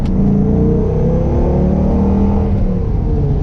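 A 1997 Dodge Viper RT10 on a test drive downshifts and accelerates, its engine a loud, steady rising roar heard from close inside the car.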